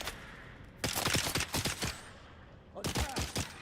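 Gunfire in the video game Dune: Awakening arrives as two rapid bursts of loud automatic shots, one long volley and then a shorter one after a brief pause.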